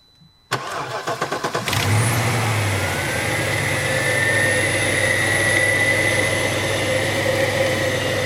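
A Mercedes E63 V8 cranks over with a rapid chatter, fires up and settles into a loud, steady rumbling idle, heard close and alone.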